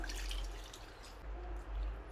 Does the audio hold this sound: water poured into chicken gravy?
yes